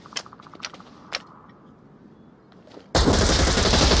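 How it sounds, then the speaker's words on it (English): Gunfire in the VR shooter Onward, played on a Quest 2: a few sharp single shots ring out first, then a loud, sustained burst of automatic fire takes over. "we're getting shot from the top of a building and apparently from somewhere else"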